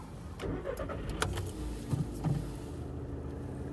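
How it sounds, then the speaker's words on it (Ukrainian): A 2011 Skoda Octavia A5 engine cranks and turns over, settling into a steady idle with a couple of brief revs, heard close up. "Автомобіль заводиться класно, оберти не плавають"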